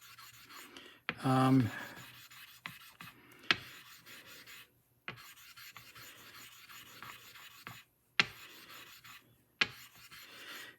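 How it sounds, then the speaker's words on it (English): Coarse sharpening stone rubbed to raise a thick slurry for honing a razor: quiet, gritty strokes in short bursts with gaps between them, one louder rasping burst near the start, close and with no talking. "I'm going to raise a fairly good thick slurry here."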